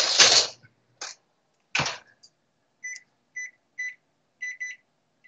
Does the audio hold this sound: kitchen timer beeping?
yes